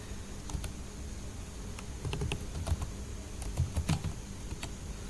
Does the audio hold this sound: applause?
no